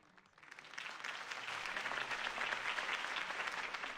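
A crowd applauds after Harvey Dent's campaign speech in the Telltale Batman game, a dense, sustained wash of clapping that swells in within half a second and holds steady, somewhat distant.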